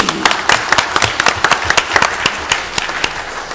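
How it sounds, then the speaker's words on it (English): Brief, loud, close round of applause from the audience at a city council meeting, with individual claps standing out sharply over a dense patter. "Let's give him another big round of applause."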